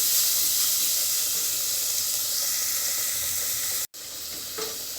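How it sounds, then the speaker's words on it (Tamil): Tomatoes sautéing in a pressure cooker for coconut milk rice, giving a dense, even hissing sizzle close by, broken by a sudden brief cut to silence before the sizzle returns, with no voices. "இப்போ நம்மளுக்கு கொஞ்சம் நேரம் தக்காளி வதங்கினா போதும்"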